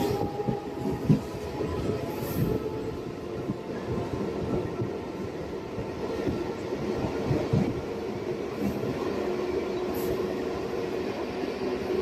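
A MEMU passenger train built at the Integral Coach Factory, Chennai, heard from inside a coach while running on rails, a continuous loud rumble with rhythmic wheel clatter and faint squeaks.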